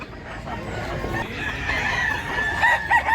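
Rooster offered for sale at a Filipino fowl market, crowing in a rising call near the end with scattered clucks over a steady background of outdoor noise.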